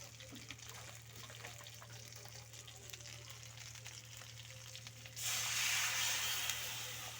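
Water poured into hot oil with tempering spices, mustard seeds and chili, for a Bengali tengra fish lemon curry; a sudden loud, close sizzling hiss bursts in after a quiet stretch of faint frying and continues steadily.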